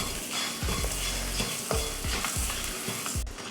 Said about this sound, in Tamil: இந்த தேங்காய் துருவல் வந்து நல்லா அந்த ஈரப்பதம் போகிற வரைக்கும் வறுத்துக்கலாம்